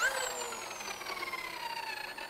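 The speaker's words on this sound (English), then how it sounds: "turn on the drill." A high-pitched electric drill whines steadily, its pitch sliding slowly downward as it keeps spinning, close and continuous with no talking.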